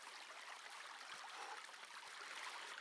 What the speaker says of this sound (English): There we are, straight from the stream.